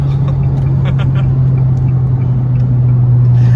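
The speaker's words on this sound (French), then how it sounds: "c'est impressionnant comment le turbo il souffle." A car accelerating with its turbo blowing, a steady deep engine drone held loud and close, with faint chirps and no talk.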